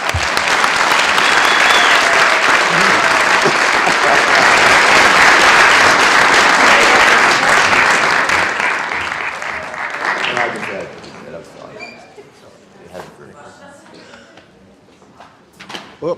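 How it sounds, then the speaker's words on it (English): An audience applauds for Kendall Thomas at a talk on ending legalized slavery. A loud, dense round of clapping holds for about eight seconds, then thins and fades to scattered claps and faint room noise. "I'd like all of us to give Kendall Thomas a round of applause because it's his birthday"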